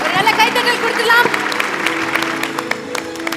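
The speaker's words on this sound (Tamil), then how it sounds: "ஒரு நல்ல கைத்தட்டல் கொடுக்கலாம்." Audience clapping at a public event honouring supporters of a kabaddi team, steady applause mixed with a voice speaking over it early on.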